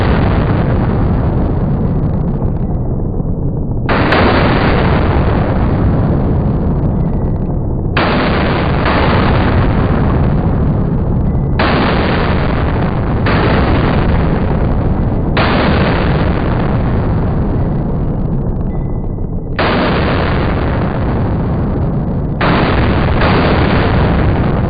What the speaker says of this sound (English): here is the slow motion footage of these two guns side by side running the same type of ammo